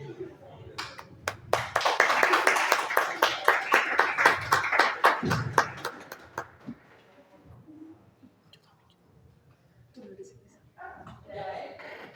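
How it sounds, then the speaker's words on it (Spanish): A lecture audience at an architecture conference claps in a short burst of scattered applause that builds and then fades after a few seconds, followed by quieter room sounds and talking. "un aplauso para ti"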